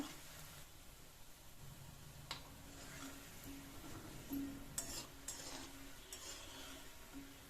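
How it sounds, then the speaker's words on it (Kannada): Rava gulab jamun balls deep-fry slowly in oil, a faint, even bubbling hiss with occasional light ticks and clinks from a slotted spoon moving them around. "ನೋಡಿ, ಈ ರೀತಿ ನೀವು ಫ್ರೈ ಮಾಡ್ಕೋಬೇಕು"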